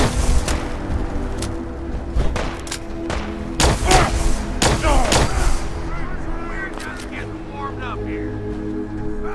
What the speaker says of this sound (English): Someone hit with a freaking rocket launcher.